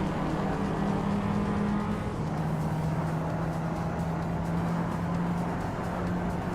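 Race cars in a racing video game launching off the start at the Twin Ring Motegi Oval, a dense steady engine drone with rising revs, loud and continuous, no voices over it.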